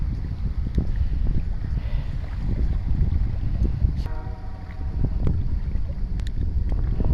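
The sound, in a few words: wind blowing while fishing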